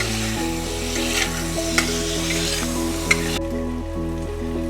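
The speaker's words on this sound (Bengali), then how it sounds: "দিয়ে চিকেনটা ভালোভাবে ভাজতে দেবো।" Chicken frying in a pan with chili powder, giving a continuous close sizzle, steady and loud, with a couple of brief sharp clicks from stirring.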